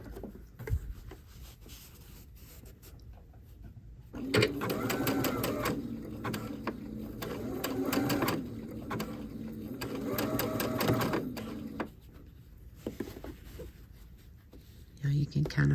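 A sewing machine runs a stitch along the folded hem of a straight skirt, one sustained stretch of fast rhythmic clatter after some handling noises, fairly quiet and close.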